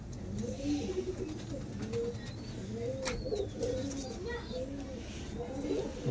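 Pigeons coo repeatedly at a pigeon sale of desi white birds, with soft rolling calls recurring steadily at close range over a constant background murmur and occasional faint chirps.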